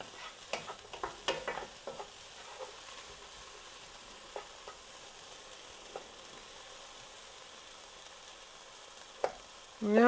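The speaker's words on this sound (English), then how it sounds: "Stir these around a bit." Food frying quietly in a pan and being stirred, with soft scraping and clinking strokes at the start and a gentle, faint sizzle in between.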